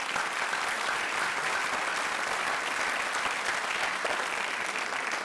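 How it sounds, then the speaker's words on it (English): Steady audience applause fills a school-district State of Schools event, a dense, even wash of many hands clapping at moderate distance, sustained without a break. "That deserves a round of applause."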